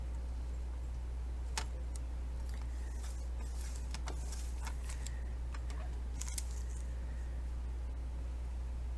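Scissors cut a piece of material for a flat-fold folio pocket, giving a few scattered short snips up close over a steady low hum, with no talking.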